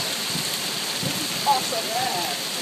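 Hail from an Ithaca hailstorm comes down outside as a dense, steady patter. A faint voice briefly rises above the constant hiss.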